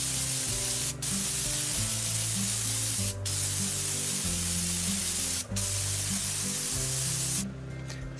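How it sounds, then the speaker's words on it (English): A sprayer lays coating onto a tile roof in South Florida, a loud continuous hiss broken by three short gaps and cutting off near the end, with a low rhythmic droning pump underneath. "spraying our next coat."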